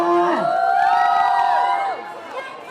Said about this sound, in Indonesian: Mana teriakan histeri seperti tadi,